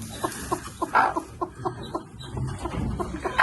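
A black broody hen clucks in a poultry yard, a steady series of short, close clucks at an even rhythm with a few louder bursts over low background noise.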